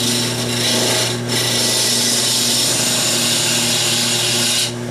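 A CI3 mid-size Easy Finisher cuts wood on a lathe, giving a loud, steady scraping whir that runs continuously with only brief dips.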